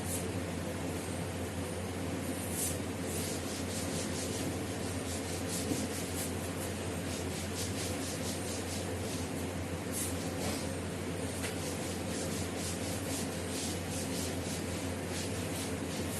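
Writing is rubbed off a classroom board in a continuous dry scrubbing rasp that runs steadily for the whole stretch, close and fairly loud over a constant background hum.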